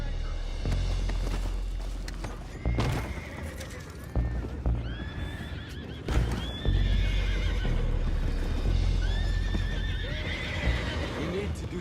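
In Red Dead Redemption 2, horses neigh and whinny repeatedly over steady hoofbeats and a low rumble, with people talking throughout amid busy game action.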